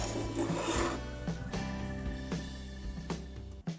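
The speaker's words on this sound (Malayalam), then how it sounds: "ഞാനൊന്ന് കട്ട് ചെയ്യാൻ പോവാണ്" A knife slicing a breakfast dish into pieces on a board, with a series of soft, fairly close cutting taps and scrapes spread over a few seconds.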